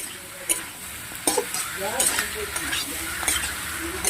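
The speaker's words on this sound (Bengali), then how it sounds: "ভালো করে কষে নেব মাছটাকে" Fish sautéed in oil in a pan, stirred steadily with a spatula, gives close, continuous sizzling with repeated scraping strokes and a few sharper clinks against the pan, with no voices.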